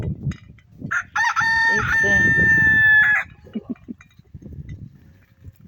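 Backyard chickens cluck softly while a rooster lets out one loud, close crow lasting about two seconds, followed by scattered short clucks and a brief voice nearby.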